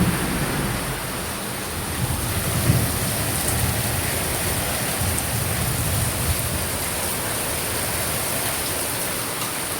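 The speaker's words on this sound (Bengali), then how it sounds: "প্রচন্ড বৃষ্টি হচ্ছে" Heavy rain pours steadily outdoors with low thunder rumbling beneath it, a dense, continuous wash of sound with no voices.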